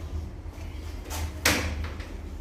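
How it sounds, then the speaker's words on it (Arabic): A security door to a porcupine enclosure at a zoo is opened, giving a soft rattle followed by a sharper metallic clack, close by over steady low background hum. "نفتح باب الشوك"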